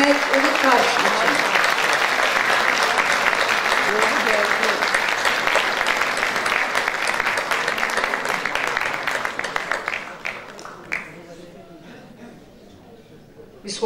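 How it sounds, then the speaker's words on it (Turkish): Sustained applause from a choir concert audience, dense and loud, thinning out toward the end with scattered claps and some voices in the crowd. "Alkışlarımız"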